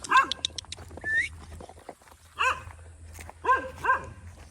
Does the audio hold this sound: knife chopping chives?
no